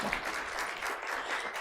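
Dense applause from an audience, a steady wash of clapping that carries on evenly without a break.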